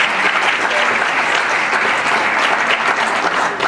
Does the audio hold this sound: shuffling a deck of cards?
no